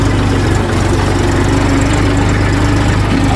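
A farm tractor engine, running again after stalling, chugs loud and close with a steady, even low knocking rumble that continues without a break and without voices.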